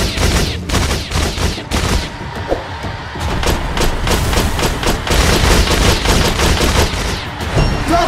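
Dense, rapid gunfire pours in during a base assault in the mobile shooter Frag Pro Shooter, loud and close bursts overlapping almost continuously with heavy thumps underneath.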